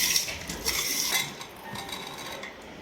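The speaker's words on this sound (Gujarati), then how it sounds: "એકદમ નમકીન મિક્સ કરી દેવાનું।" A spoon stirs jhalmuri namkeen in a bowl, giving close, busy scraping and light clinking that is louder and denser at first, then settles into quieter rustling stirs.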